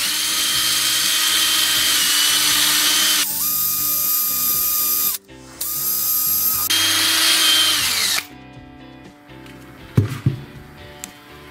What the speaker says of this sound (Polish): To bierzemy właśnie wkrętarkę z pilnikiem i powiększamy otwór.